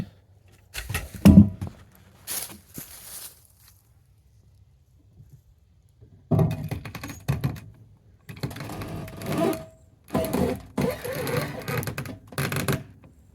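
A winch strains to drag a heavy fallen log across a hillside, running in loud, rattling mechanical bursts separated by quiet pauses.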